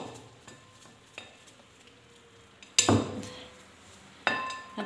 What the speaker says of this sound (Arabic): انا كنصفي الخليط ديالي